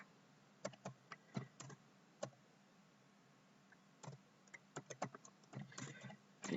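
Someone types on a computer keyboard in short bursts of quiet, close clicks with pauses between the clusters of keystrokes, and no voices.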